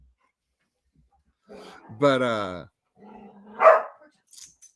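Corgis indoors give a couple of sharp barks with a yelp, short and spaced apart against a quiet room, with a brief spoken word between them.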